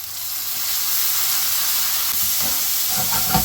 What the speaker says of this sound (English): I'm going to add some ginger and garlic paste.